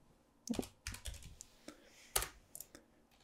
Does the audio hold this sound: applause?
no